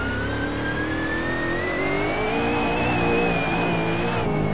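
Nissan 370Z in Assetto Corsa at full throttle, its engine droning steadily and rising in pitch as it pulls hard through fifth gear, loud and close, with a brief dip near the end.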